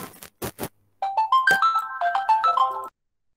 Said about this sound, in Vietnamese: Có mình có điện thoại cái nghe các bạn